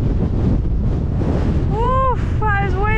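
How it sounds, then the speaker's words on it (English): Constant loud wind rumble at Afan mountain bike trails in Wales fills the clip while a voice makes rising, sliding exclamations near the end. "Oof, that is windy."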